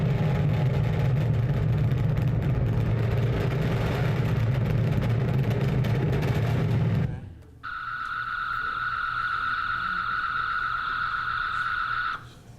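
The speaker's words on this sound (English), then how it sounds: "we worked really hard at getting a sound that sounded a lot like the craft taking off" A simulated UFO craft taking off: a loud, heavy rumbling roar cuts off abruptly, followed by a quieter, steady electronic hum from an oscillating second engine, with a sustained tone that ends suddenly.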